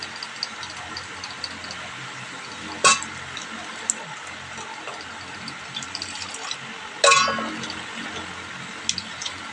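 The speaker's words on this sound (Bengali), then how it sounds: "ওই জন্য একটু ছাঁকিয়ে ভালো করে ধুয়ে নিচ্ছি" Water runs steadily in a kitchen sink as a plastic soft-drink bottle is washed and rinsed, with a soft continuous splash. Two sharper clunks of the bottle stand out clearly against the flow.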